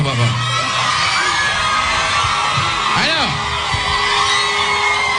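A large crowd screams, whoops and cheers outdoors at an evening music-awards gathering, a loud, continuous roar with shrill yells rising over it throughout.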